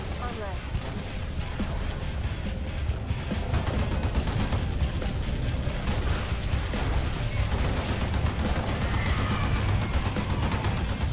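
Rapid, continuous turret gunfire in Halo Reach shooting down Phantom dropships, a dense, unbroken barrage of loud shots over rumbling battle noise, with a voice talking over it.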